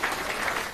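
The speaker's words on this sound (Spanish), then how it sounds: "un fuerte aplauso para ellos cuatro." Brief burst of clapping from a crowd at a political rally in Villa Altagracia, a dense, steady patter of many hands at moderate distance.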